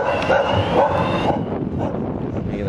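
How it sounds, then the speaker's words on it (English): Dog at a skatepark giving a few short barks and yips mixed with whimpering, fairly close, amid outdoor background noise. "Dog bark."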